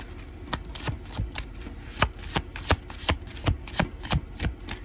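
Tarot cards being shuffled by hand, a rapid series of crisp, papery slaps and riffles in an uneven rhythm, close and fairly quiet with no talking.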